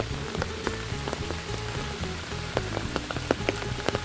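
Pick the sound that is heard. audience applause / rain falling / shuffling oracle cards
rain falling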